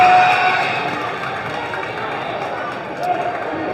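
A girls' high school basketball crowd at Triton versus Lynn Classical cheers after a missed free throw, a broad roar that swells at first, then settles into sustained murmuring noise, with a commentator's voice faintly present.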